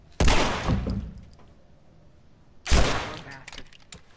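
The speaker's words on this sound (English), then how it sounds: "I did not mean to shoot him twice." Two loud gunshot blasts in The Last of Us Part 1, the first near the start and the second about two and a half seconds later, each decaying into a short echoing tail with quiet between.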